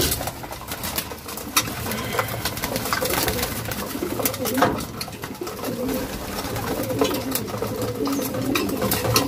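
Pigeons feeding from a food tray coo repeatedly in soft, overlapping calls close by, with scattered pecking clicks and light rustling throughout, and no talking.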